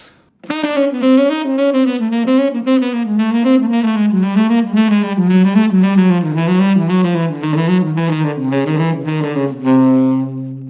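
A clean melodic guitar run descends a diminished scale step by step in steady, even notes, ending on a held low tone, played solo and up close.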